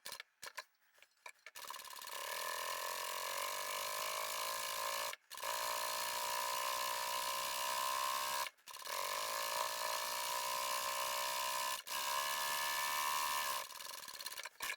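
Sewing machine stitching the side seam of a crossbody sling bag, a steady mechanical whir running in long continuous bursts with brief pauses between, close and fairly loud with no talking.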